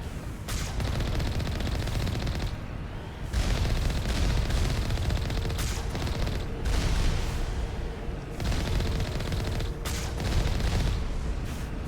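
Heavy turrets firing in Mass Effect, a dense, continuous barrage of loud rapid shots and booms with brief gaps, nearly filling the scene.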